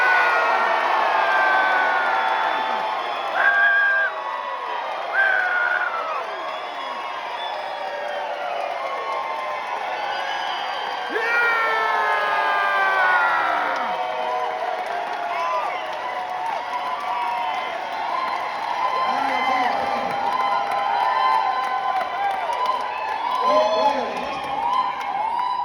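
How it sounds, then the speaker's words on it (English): A crowd at a political rally for US Senate candidate Tiffany Smiley cheers and shouts loudly and continuously. The dense, sustained roar of many voices swells in places over about twenty-five seconds. "you're going to have a chance to vote here tonight with applause and shouting"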